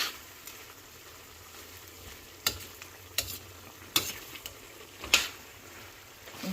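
A pan of chicken and sayote sauté is stirred over a soft, low sizzle, with several sharp utensil scrapes and clacks against the pan at irregular intervals.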